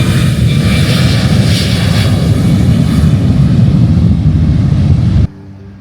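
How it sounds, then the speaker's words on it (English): A Ryanair airliner passes low near the airport, a loud, close roar of jet engines that holds steady for several seconds and then cuts off abruptly, with no talking. "there's a Ryanair just going"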